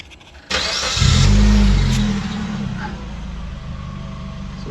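A 2012 Suzuki SX4 AWD cranks briefly and catches, its engine surging loudly to a rev before settling into a steady idle, heard close and alone.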